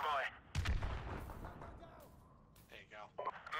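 An airstrike in a video game: a heavy artillery boom hits early, followed by rumbling blasts and scattered impacts, with players talking over the action.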